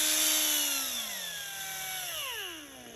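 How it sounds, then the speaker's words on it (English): A small Chicago Pneumatic die grinder whines at high speed close by, its pitch sliding down steadily as it spins down, loud and alone with no talking. "So new little die grinder from CP."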